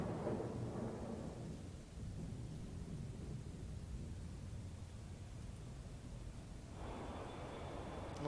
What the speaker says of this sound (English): A little bit of rain.